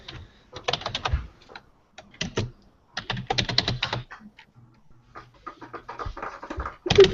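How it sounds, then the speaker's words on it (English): Someone types angrily on a computer keyboard, producing close, loud bursts of rapid clicking and clacking. Brief pauses separate the runs of keystrokes. "It's like the angriest typing I've ever heard."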